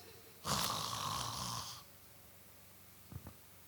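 A single long snore, close and moderately loud, followed by a quiet pause and two faint short clicks.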